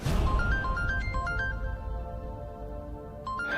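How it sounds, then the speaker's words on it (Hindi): A melodic electronic phone ringtone plays a repeating tune of bright stepped notes, fading briefly before the melody starts again. "ये तो किसी रिजवी साहब का फोन है"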